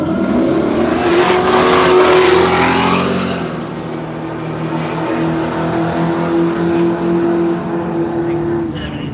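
A drag-racing ute and a Holden Torana at Willowbank Raceway in Australia roar down the strip, loud sustained engine drone that fades as the cars pull away, with a voice talking over it.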